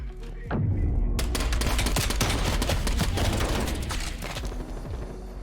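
Rapid gunfire from the game Call of Duty Cold War, a dense burst of sharp shots that starts abruptly and goes on for several seconds, loud and close.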